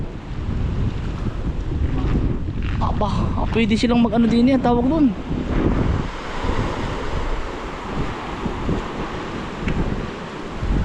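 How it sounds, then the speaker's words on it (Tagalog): Wind roars against the microphone over surging ocean waves, with a person talking through the middle of it. "Pakalakas po ng alon."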